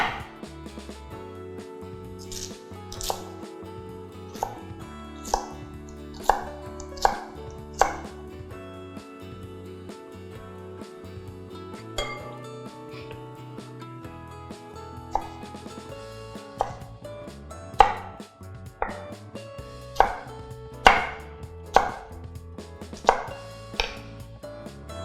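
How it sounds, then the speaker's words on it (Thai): A knife chops peeled white radish into cubes on a cutting board for sweet pickled radish, with sharp irregular board knocks repeating throughout over a steady low background tone. "แล้วเราก็จะเอามาหั่นเป็นเต๋ากันค่ะ"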